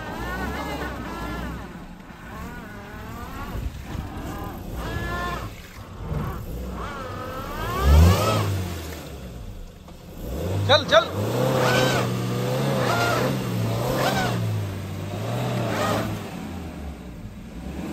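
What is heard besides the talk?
Maruti Brezza car engine revving, stuck in a field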